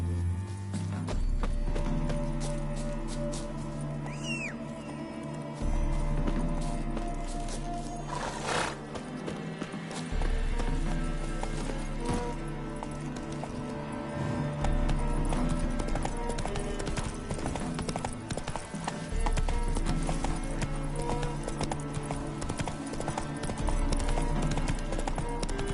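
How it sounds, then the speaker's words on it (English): Horse hooves clip-clop at a steady galloping rhythm in The Witcher 3, loud and close, with an occasional neigh and game music and effects layered underneath. "Run, Roach."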